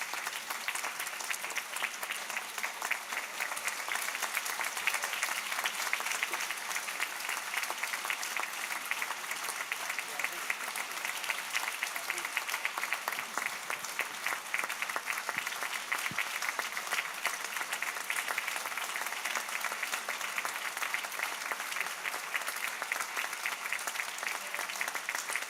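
A congress audience in Lausanne gives warm, sustained applause, a steady dense clapping that holds at an even level for the whole stretch.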